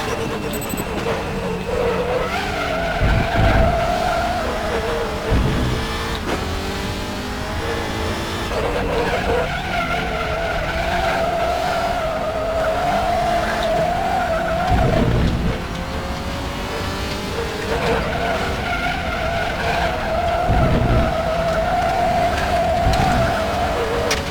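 In the RaceRoom sim, a WTCR touring race car at the Hungaroring brakes hard with a sustained tyre squeal. A loud engine drones continuously, and the skid whine rises and falls several times over the lap.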